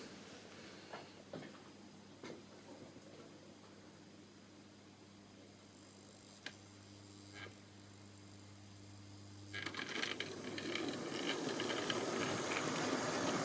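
Model LNER locomotive running on a track, a faint steady mechanical hum with occasional clicks, then louder rattling running noise in the last few seconds.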